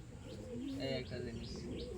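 Pigeons for sale at a home loft give soft rolling coos and brief chirps, fairly close. The calls run steadily through the two seconds under a low background murmur, with no clear speech.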